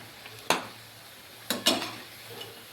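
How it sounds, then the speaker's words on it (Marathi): Potato sabudana vadas deep-frying on a low flame give a soft, steady bubbling hiss, broken by a few sharp utensil taps near the start and middle. "असे याला कमी गॅसवरच तळून घ्यायचे."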